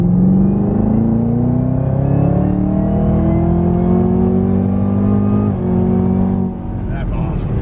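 A 2017 Camaro ZL1 pulling hard through its 10-speed automatic, engine rising in pitch through several quick upshifts with brief dips between gears, loud and close from inside the car.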